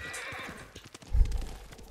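A horse in the video game Ghost of Tsushima gives a whinny, then its hooves clop in quickly as it arrives, close and fairly loud, with no talk over it.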